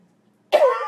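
An older woman gives a single abrupt cough, close and clear, after near silence.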